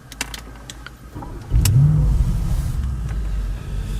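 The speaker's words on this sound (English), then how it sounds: "Foot on the brake and start the car." A 2017 Audi S8 Plus engine cranks and starts up loudly after a second or so of quiet clicks, then settles into a steady, deep idling rumble close by.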